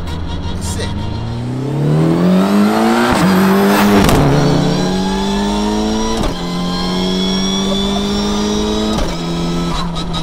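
An HKS stroker Evo 7 with a sequential gearbox accelerates hard, its engine note climbing and dropping sharply with each quick gear change, loud and close from inside the car, with someone speaking over it.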